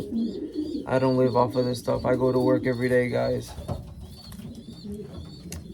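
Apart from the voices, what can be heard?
young racing pigeons cooing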